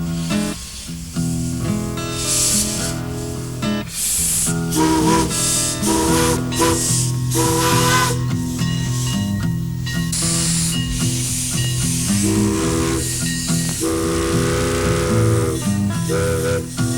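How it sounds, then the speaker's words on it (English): A steam locomotive on the Mount Rainier Scenic Railroad hisses loudly and sounds its whistle in repeated, sustained blasts over a long stretch, with no talking. "aboard one of a dying breed, an actual steam locomotive."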